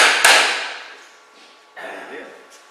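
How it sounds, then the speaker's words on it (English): A brass hammer taps a spur drive into the end of a wood spindle blank on a lathe, one sharp near strike followed by a second lighter tap, each ringing briefly before fading. "I use a brass hammer because I don't want to swell the top of this."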